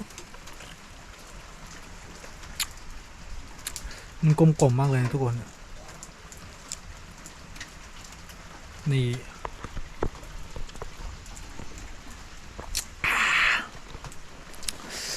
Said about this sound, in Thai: ฝนยังไม่หยุดตกเลยนะ